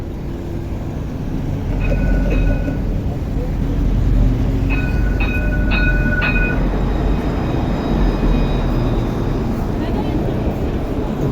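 An RATP tram in Île-de-France rumbles steadily with heavy low-frequency rolling noise, with high electric whines and brief chiming tones rising over it as it pulls away, loud and close throughout.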